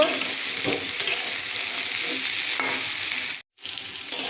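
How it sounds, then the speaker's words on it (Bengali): Chopped jackfruit and prawns tossed with spices in a hot pan give a steady, close sizzle with soft scraping stirs, broken by a brief silent gap near the end. "এঁচোড়ের সাথে চিংড়ি মাছটা দিয়ে এখন ভালো করে মশলা মাখিয়ে নেব"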